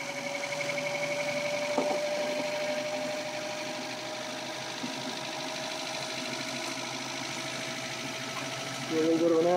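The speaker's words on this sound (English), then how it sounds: "Here we turn her on. A nice speed on the motor." Electric motor module driving an axle, powered by a battery pack and drawing around 40 amps, hums steadily at a nice speed with a constant whine throughout, louder near the end.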